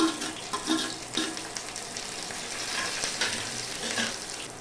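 Dried chili and curry leaves fry in tempering oil for a tamarind kuzhambu. A steady close sizzle is broken by several short bursts of crackle and scraping as the pan is stirred.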